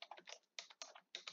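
Close, crisp keystrokes on a computer keyboard come in short quick bursts separated by brief pauses, with no voices.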